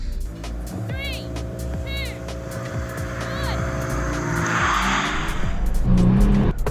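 A V6 pickup truck launches from a drag race start, its engine roaring and climbing steadily in pitch and loudness, with brief squeals and outdoor rumble around it.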